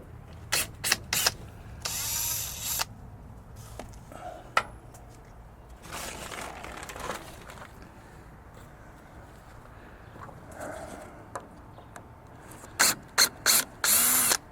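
Short bursts of a power drill removing screws whir on and off at close range, separated by quiet pauses and ratcheting clicks of mechanical tool work.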